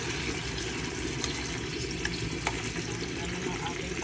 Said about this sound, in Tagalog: Ito na yung beef steak na ibinabad ko. Ayan, iprito ko muna siya.